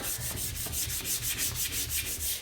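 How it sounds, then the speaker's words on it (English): Steady rhythmic back-and-forth rasping of 400-grit sandpaper on a wooden board, sanding with the grain, close up, repeating in even strokes with no talking. "take your 400 grit sandpaper, and I will start on the back first, sanding with the grain"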